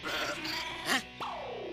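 A human voice imitates a goat's bleat, giving a few short wavering bleating calls that end in a longer falling, drawn-out bleat, close and fairly loud.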